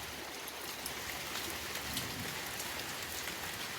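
Steady rain falls outdoors, making a faint, even hiss of dense patter with no distinct drops standing out and no voices.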